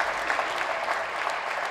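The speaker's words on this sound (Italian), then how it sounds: "un applauso al coro delle voci bianche del San Carlo se lo meritino tutti" Audience applause for the San Carlo children's choir at the Reggia di Caserta, a brief, dense patter of clapping from a crowd in a hall.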